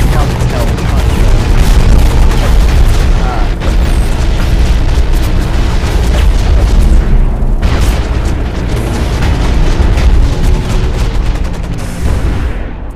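Relentless gunfire and booming explosions from a mech battle in the video game Hawken pound nonstop at close range, loud and dense for the whole stretch.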